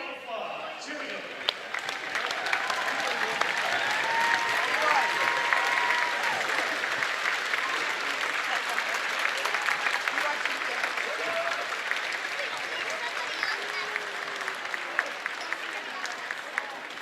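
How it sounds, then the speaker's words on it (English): Sustained applause from a large crowd standing for 2019 Hall of Fame inductees at a volleyball match between Kasson Mantorville and Lakeville South, a broad steady roar of clapping with scattered cheers lasting the whole stretch. "let's give them a standing round of applause."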